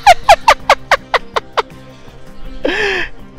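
A frantic bird in the puzzle-platformer Unravel Two calls with a rapid series of eight sharp, descending squawks, then a short pause and one longer, louder screech, all loud and close.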